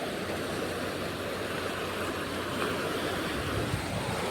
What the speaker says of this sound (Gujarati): મસ્ત મજાની માલણ નદી છે ભાઈ જોઈ શકો છો કેટલું પાણી એટલું જાય છે